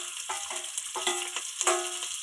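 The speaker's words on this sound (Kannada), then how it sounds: "ಈರುಳ್ಳಿ ಹಾಕ್ಬಿಟ್ಟು ಸ್ವಲ್ಪ ಕಲರ್ ಚೇಂಜ್ ಆಗಲಿ, ಸ್ವಲ್ಪ ಹಿಂಗೆ ಫ್ರೈ ಮಾಡ್ಕೊತೀನಿ" Sliced onions frying in hot oil for chicken biryani, a steady close sizzle broken by a few stirring scrapes.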